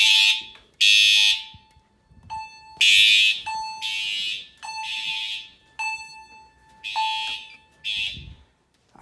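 A newly installed fire alarm system sounds during testing: repeated loud electronic horn blasts, each about a second long, alternating with quieter steady tones from notification devices, heard indoors with no talk.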